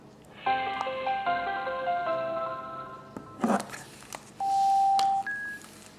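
A Fiio BTA-10 Bluetooth headphone adapter plays its power-on tones through Audio Technica M50X headphones: a rising sequence of bright electronic beeps, then a brief click and two longer sustained tones, fairly loud and close.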